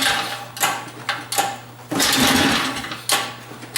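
Attempts to start a small engine on a gadget bike at full choke: brief buzzing bursts sputter in and drop away, with one longer run of rattling engine sound before it cuts out and another short burst follows.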